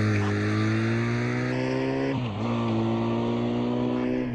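A V65 motorcycle engine drones loud and close with a strong, steady tone; the pitch dips briefly partway through, then returns and holds.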